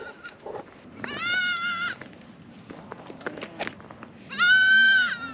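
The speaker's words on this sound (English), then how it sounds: "These goats are eating the argan from a tree, but they're in the trees." Goats climbing in argan trees in Ait Baha, Morocco, let out two long, loud bleats separated by quieter rustling and scattered small sounds.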